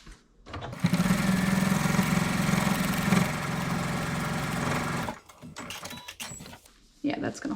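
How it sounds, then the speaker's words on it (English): A sewing machine stitches a seam on a zipper pouch in a loud, fast, even whir lasting about four seconds. It stops abruptly, then comes quiet handling noise and speech. "so I'm going to put another line of stitching there"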